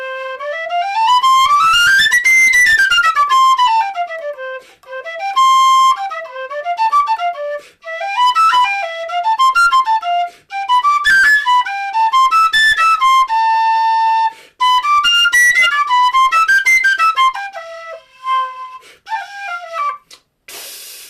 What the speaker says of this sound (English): I love this C whistle.